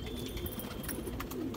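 Rampur pigeons coo together in a steady, low, murmuring chorus, close and continuous, with a few faint chirps over the top.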